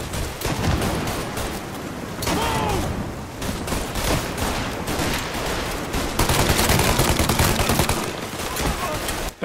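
Rapid bursts of gunfire from a shootout in Mafia Definitive Edition, dense and continuous with overlapping volleys that grow heavier toward the end, with faint voices mixed underneath.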